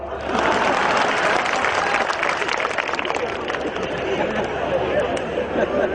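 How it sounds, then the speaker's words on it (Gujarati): A crowd at an election rally claps loudly and continuously for several seconds, mixed with murmuring chatter and voices talking underneath. "તાળીઓ પાડો"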